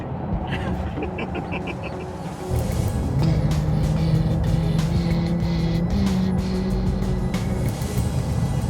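Road traffic of cars queuing near the Nevada state line is heard from inside a Honda Ridgeline as a steady engine and tire rumble. A low drone grows louder partway through, and a voice talks at times.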